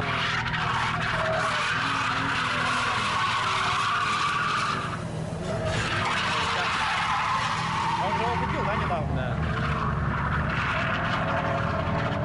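A drift car on Goodride tires skids with a sustained tire squeal and engine roar at a practice session. The noise holds steady with brief drops, and a voice sounds faintly underneath.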